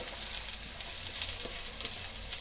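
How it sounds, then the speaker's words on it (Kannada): Three thick onions, finely chopped, fry in a pan for bottle gourd sambar, giving a steady, close hiss and sizzle that runs unbroken throughout with no talking. "ಈರುಳ್ಳಿನ ಚೆನ್ನಾಗಿ ಫ್ರೈ ಆಗಲಿ"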